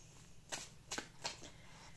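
Cards being shuffled for a card reading, three short, soft riffling bursts, quiet and close, with no talk.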